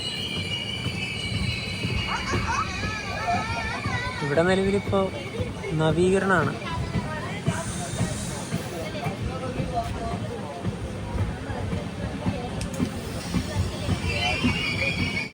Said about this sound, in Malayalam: 8:50 ട്രെയിൻ ഇതാ വർക്കല ശിവഗിരി റെയിൽവേ സ്റ്റേഷനിലേക്ക് എത്തുകയാണ്